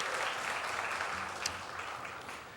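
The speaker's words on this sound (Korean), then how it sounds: "하나님께 영광의 박수를 올려드리겠습니다" A church congregation at a worship service applauds, a dense, steady wash of clapping at moderate level throughout the short stretch.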